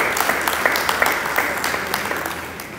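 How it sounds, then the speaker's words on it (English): Short round of audience applause at an annual general meeting, a moderately loud patter of many hands with a few crisp individual claps standing out. "Another round of applause."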